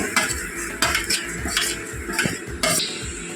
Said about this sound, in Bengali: কালো জিরাটা একটু গরম করে দেবো, রোস্ট করে নেবো।